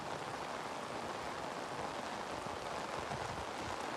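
Torrential rain drenching open fields, an unbroken wash of pattering drops that stays loud and close from start to finish, no talk over it.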